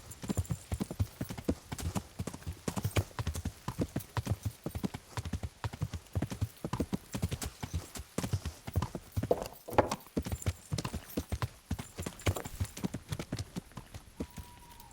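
Horse hooves clip-clop steadily in the medieval game Kingdom Come: Deliverance, a brisk continuous rhythm of close, crisp strikes throughout with a faint whinny midway.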